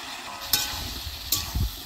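Chunks of taro and pointed gourd hit hot oil and spice paste in a pan and are stirred, a steady close sizzle with a couple of sharp spatula scrapes and clinks.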